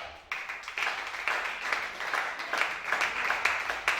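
Hands of a church congregation clap together in a thick, continuous round of applause that swells after a brief quieter start, with faint voices underneath.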